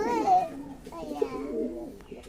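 Owl pigeons, a fancy pigeon breed, give soft, low, throaty coos close by, with a voice speaking over part of it.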